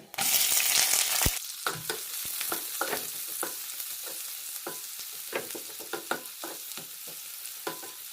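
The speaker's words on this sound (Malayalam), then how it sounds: "ചെറുതായി മുറിച്ച സവാളയും പച്ചമുളകും ഇടാം" Chopped onions and green chillies drop into hot oil with biryani masala for a broken wheat biryani. A loud burst of sizzling opens, then settles into steady frying crackle with repeated stirring clicks and scrapes, no voices.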